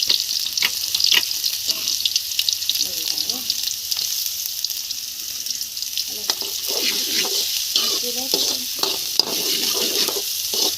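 Chopped onion and tomato tempering in hot oil for pasta, a loud steady sizzle with scraping stirs and a few sharp pops, with brief snatches of talk in the middle.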